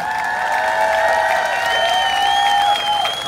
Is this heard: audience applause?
yes